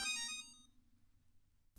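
A mobile phone ringtone in a Malayalam TV serial plays a quiet, short tonal chime that rings out briefly and fades, leaving a low hum before a faint click at the end.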